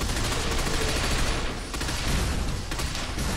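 Rapid automatic gunfire in the shooter game Binary Domain, dense overlapping bursts of shots rattling loudly and continuously amid battle noise, with no talking.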